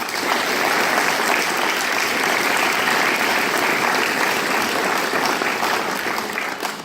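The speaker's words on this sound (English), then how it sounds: "So let's have a round of applause for the families that kind of attended." Sustained, dense applause from an audience at an NCO induction ceremony, honouring attending families; loud and steady for about seven seconds, tapering slightly at the end.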